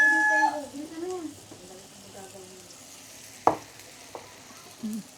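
Food frying in plenty of cooking oil, a soft steady sizzle under the talk, with a sharp clack of a utensil against the pan partway through.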